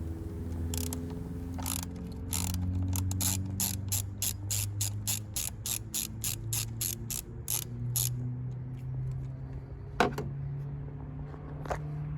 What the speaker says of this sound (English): Now remove the metal clamp from the air pipe.